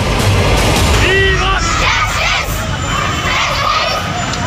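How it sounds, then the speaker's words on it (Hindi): A large protest crowd gathered at Jantar Mantar, a loud, dense hubbub of many voices with shouts and raised calls rising above a continuous roar, close and sustained throughout. "तस्वीर आपको दिखा रहे हैं जंतर मंतर की, जहां पर लगातार भीड़ बढ़ती जा रही है।"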